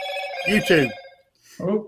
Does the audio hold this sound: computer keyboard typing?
no